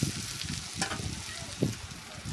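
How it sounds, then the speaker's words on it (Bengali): Whole spices hit hot oil in a kadai and sizzle softly, with a steady frying hiss and a couple of clinks and scrapes of stirring close by. "এদিকে কড়াইয়ের তেল গরম হয়ে গেছে, ওর মধ্যে সামান্য পরিমাণে একটু ফোড়ন দিয়ে দেবো"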